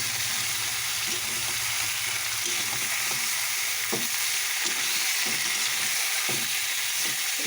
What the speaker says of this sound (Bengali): মুরগির মাংসটা কষাচ্ছি, একদম এরকম ভাজা ভাজা টাইপের করবো।